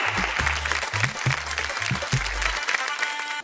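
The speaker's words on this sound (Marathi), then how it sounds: "जोरदार टाळ्या" Loud, dense applause from a studio audience at a televised game show, steady and sustained throughout with a rhythmic low beat underneath, fading slightly at the end.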